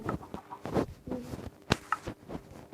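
A Minecraft PE chicken clucks softly in a few short, scattered bursts, fairly quiet and alone.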